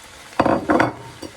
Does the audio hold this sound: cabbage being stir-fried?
yes